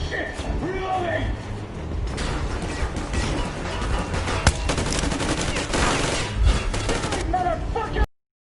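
Sustained gunfire in the post-apocalyptic shooter Metro Exodus, with dense rapid bursts and crashing impacts from several weapons, loud and close, while voices shout over the shooting.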